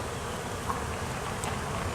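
Honeybees humming at a hive being relocated, a dense, steady buzz close by with no pauses.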